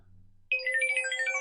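A Nokia N73 phone plays a ringtone: a bright electronic melody starts abruptly after a short low hum, playing a quick repeating pattern of synthetic tones.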